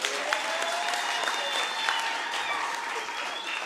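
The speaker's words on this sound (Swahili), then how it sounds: "Jamani, tumpigieni makofi." Steady, dense applause from an audience at a Kenyan business gathering, a continuous wash of many hands clapping at moderate distance with faint voices underneath.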